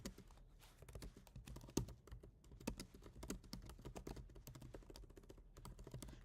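Typing on a computer keyboard, a quiet, close run of quick irregular key clicks with brief pauses between bursts.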